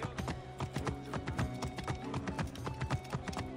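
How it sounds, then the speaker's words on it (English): Horse hooves clip-clop at a steady trotting rhythm in Assassin's Creed Origins as the horse travels through ancient Alexandria, close and fairly loud and continuing throughout, with no talking. "We do get a horse. You can get a horse."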